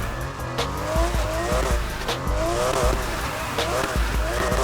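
A Porsche RSR drifting in Need for Speed Heat, its tires squealing in repeated sliding bursts over a revving engine, with sharp thumps recurring throughout, loud and close.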